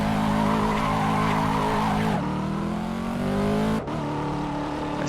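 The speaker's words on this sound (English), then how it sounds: "Nice big burnout leaving the pit lane there" A Corvette C7 in the Assetto Corsa racing game does a burnout leaving the pit lane, the engine revving loud and close with a long tire squeal, stepping up through gears with sharp shifts.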